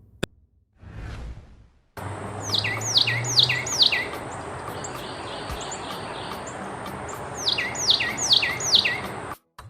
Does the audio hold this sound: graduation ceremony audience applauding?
no